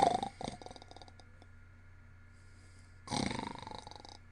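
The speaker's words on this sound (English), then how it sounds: "Snores, but wakes up again at once." A person snoring in an audiobook of Chekhov's The Cherry Orchard gives a rough throaty snort at the start and another longer snore near the end, with quieter breathing in between.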